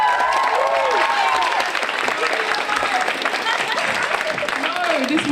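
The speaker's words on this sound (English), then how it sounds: "We need to give all the panelists a round of applause." Audience at a sixth form panel event applauding the panelists, with dense sustained clapping throughout and voices and some cheering mixed in.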